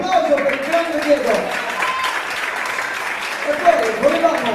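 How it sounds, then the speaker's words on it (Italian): An audience applauds a DJ at the console during a live event, with continuous clapping throughout and a voice speaking over it at moments. "applauso"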